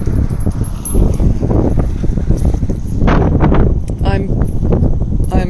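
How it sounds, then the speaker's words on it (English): Wind buffets a camera microphone outdoors near an oil refinery, producing loud low rumbling gusts that swell and fade continuously, with a few faint clicks and handling noises mixed in. "it is a little bit windy today"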